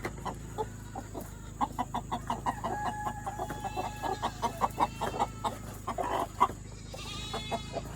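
A hen in a backyard coop clucks in a rapid, regular series of short notes, close by, with other farm birds faintly in the background.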